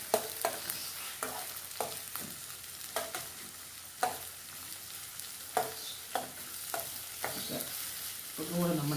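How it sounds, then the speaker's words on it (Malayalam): Chopped garlic, ginger and green chillies sauté in a pan for a river fish curry, a constant sizzle broken by regular scraping strokes of a spoon, close and steady, with no voices. "വെളുത്തുള്ളി, ഇഞ്ചി, പിന്നെ പച്ചമുളക് നമ്മൾ വഴറ്റുവാണ്. വഴറ്റുന്ന പ്രൊസീജിയറാണ് നമ്മൾ കണ്ടുകൊണ്ടിരിക്കുന്നത്."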